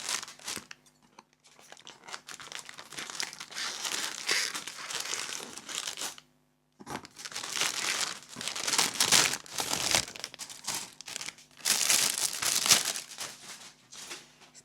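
Scissors cutting into the packaging of a Zvezda 1/35 Soviet STZ-5 artillery tractor model kit, with close crinkling and tearing of plastic wrap in two long bursts separated by a short pause.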